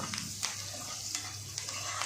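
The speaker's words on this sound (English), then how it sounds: "The onions get fried in a short time." Onions sizzle steadily in a hot pan, with occasional scrapes as they are stirred.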